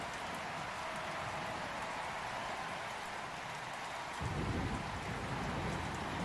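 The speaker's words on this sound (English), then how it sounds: "rain is the sound recorded from the cabin where Judgment brought the Hierophant in her darkest moment" Steady rain recorded from a cabin, a broad wash of hiss with dense low patter that swells louder and heavier about two-thirds through, continuous with no voices.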